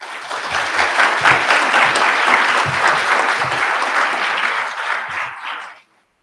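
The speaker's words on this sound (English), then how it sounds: "Please join me in giving these 2 deserving graduates a big round of applause." Sustained audience applause fills a graduation ceremony hall at Tar River Academy, a dense, steady clapping that stays loud for about six seconds before cutting off abruptly.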